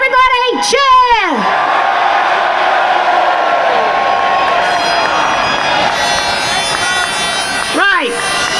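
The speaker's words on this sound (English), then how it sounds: "could we all give him a big cheer to make sure he does make it onto the stage? Everybody cheer!" A large crowd roars and cheers at a rain-soaked farmers' protest on Whitehall in London, with sustained shouting and whoops throughout and sharp rising-and-falling whistles at the start and near the end.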